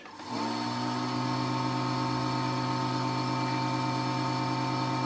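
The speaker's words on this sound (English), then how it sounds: "First thing to do is turn the vacuum pump on." A vacuum pump on a wood lathe starts up and settles into a steady, loud mechanical hum with a strong low drone and whining overtones, running continuously without a break.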